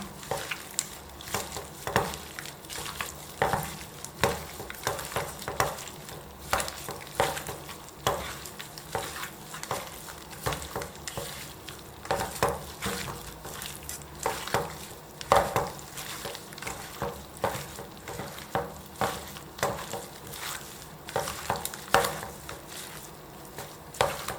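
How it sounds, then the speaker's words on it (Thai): Soy sauce being stirred into pork cartilage by hand in a bowl, giving a steady run of wet squelching, clicking mixing sounds close to the microphone with no talking. "คลุกเคล้าส่วนผสมให้เข้ากันนะคะ"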